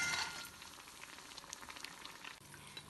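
An Ugadi festival dish frying in hot oil, giving a steady faint bubbling sizzle with a brighter burst at the very start, heard alone without talk.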